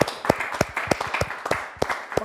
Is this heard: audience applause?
yes